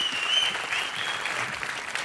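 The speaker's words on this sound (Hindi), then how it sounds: "जोरदार तालियां हो जाए अनुष्का के लिए।" Studio audience applause for Anushka Sharma on a comedy show, a steady, dense burst of clapping heard alone for about two seconds.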